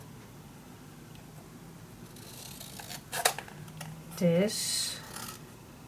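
Scissors cut paper for a handmade secret storage book, a few short snips and a rustle near the end, close and fairly quiet, with a voice speaking briefly.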